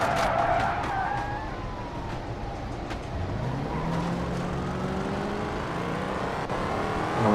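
A police car in BeamNG.drive skids through a long slide, its tires squealing in sweeping tones while the engine drones underneath, loud and close throughout with a few clicks and knocks.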